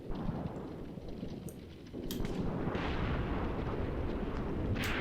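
Artillery fire in the tactical war game Graviteam Tactics, a heavy continuous rumble of distant barrages that swells louder midway, with sharp cracks of shots on top.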